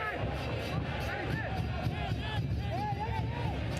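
Loud, continuous stadium noise comes from about 2,000 supporters at a Real CD España versus CS Herediano Concacaf League football match, a dense roar with scattered whistles and shouted chants close by.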